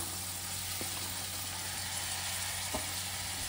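Mixed vegetables frying over a high flame in a pan for mushroom fried rice, a steady close sizzle with a couple of soft stirring knocks and no talking.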